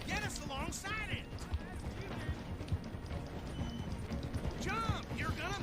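A video game horse gallops in a fast, steady clip-clop of hooves, with occasional whinny-like calls and a voice talking over it throughout.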